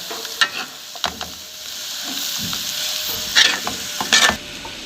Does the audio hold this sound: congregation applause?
no